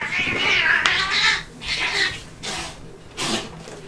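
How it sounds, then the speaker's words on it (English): Cats yowling and caterwauling loudly in a fight, with several drawn-out wails rising and falling, close by and with no talking. "We got ourselves a cat fight."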